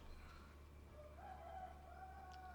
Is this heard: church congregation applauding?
no